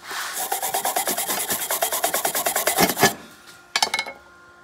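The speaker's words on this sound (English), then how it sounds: "Yeah, I've got a wire brush here. And I'm gonna give this thing a good rub just to kind of observe the abrasion characteristics." A wire brush scrubs hard across a vitrified fused silica coating laid down by a 6,600-watt spray, giving a steady run of rapid rasping strokes for about three seconds, then a short pause and a final brief burst of scraping.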